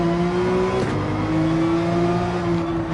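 A race car in a racing game accelerates hard out of a turn. Its engine holds a loud, continuous drone whose pitch dips briefly as it shifts, then climbs steadily again, up close and alone.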